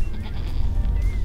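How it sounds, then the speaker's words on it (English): Goats on a farm visited while RV camping in New Mexico bleat loudly and close up, the calls overlapping in a steady run with no talk heard. "Look at the freaking goat."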